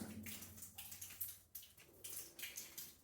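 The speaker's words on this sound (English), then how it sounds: "the water's dripping right out from probably the bedding plane right there" Water trickling and dripping in a reverberant old silver and lead mine tunnel in Idaho, irregular splashes over a steady wash of flowing water, close by.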